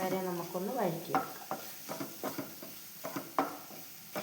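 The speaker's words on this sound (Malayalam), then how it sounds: "അപ്പം എല്ലാം കൂടി ഒന്ന് വഴറ്റിയെടുക്കാം. അത് പച്ചമണെല്ലാം മാറുന്നവരെ നമുക്കൊന്ന് വഴറ്റിയെടുക്കാം." Spice powders and masala sauté in a pan for a chickpea curry, with rhythmic spoon strokes scraping and squeaking against the pan over a soft sizzle, each stroke close and distinct.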